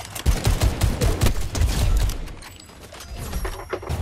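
Rapid bursts of gunfire crackle through a multiplayer video game, loud at first and then fading into scattered shots.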